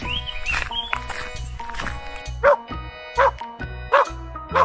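A dog barks in short repeated yips, several sharp barks spaced out over a few seconds, close and clear over a light background music bed.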